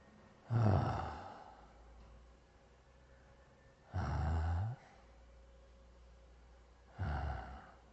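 Three slow, deliberate breaths out through the mouth, each a close, airy whoosh lasting under a second and separated by a few seconds of near silence.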